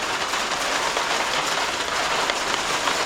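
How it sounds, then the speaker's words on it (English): During an outdoor hailstorm, a constant, close rattle of hailstones drums on the top of a bag without letting up. "It's a hailstorm."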